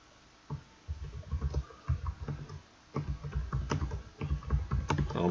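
Typing on a computer keyboard while filling in a form: steady bursts of quiet, close key clicks in short runs with brief pauses, and no talk.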